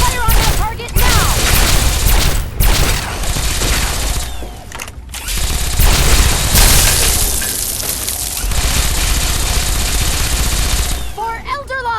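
Gunfire and explosions erupt in the Fallout 3 video game: rapid automatic bursts and heavy booms fill the mix with barely a pause, while a soldier's shouts cut in among them.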